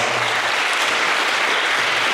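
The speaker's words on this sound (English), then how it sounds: "Let's give our panel one more round of applause." An audience at a teach-in event gives a panel a loud, dense round of applause, a continuous roar of many hands clapping at once.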